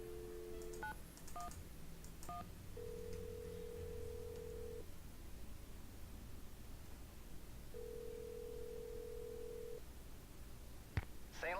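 A telephone in the Nancy Drew video game is dialed: a few quick keypad tones, then two long ringback tones with a pause between, ending in a brief click, all quiet and close with no talking.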